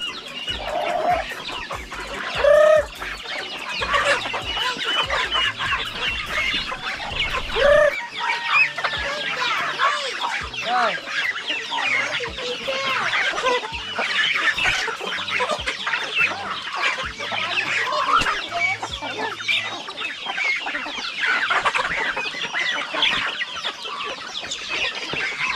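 Chickens on a farm cluck and squawk continuously close by, with overlapping calls, occasional louder squawks and what may be a distant crow, and no talking.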